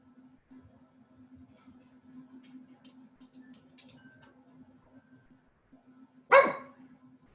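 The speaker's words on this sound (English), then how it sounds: "Sorry, my dog." A dog gives one sharp, loud bark near the end of a quiet indoor yoga session, the rest of the room silent apart from a faint steady hum.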